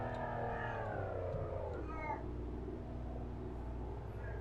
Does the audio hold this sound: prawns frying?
no